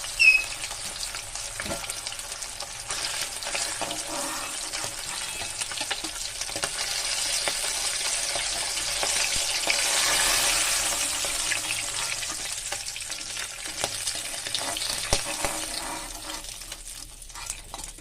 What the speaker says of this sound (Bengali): এরপরে পরের মাছগুলো এরকম একই রকম করে ভেজে নেব।